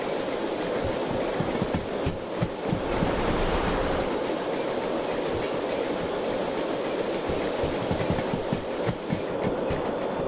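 An S282 steam locomotive in Derail Valley blows out water in a steady, loud rushing hiss of steam that keeps going without a break, with a chuffing rumble underneath.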